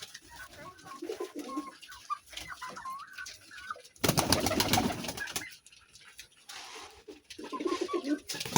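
Pigeons coo in low, throaty bursts on a small pigeon farm, close and repeated, with a loud rustling or flapping burst midway and quiet room noise between calls.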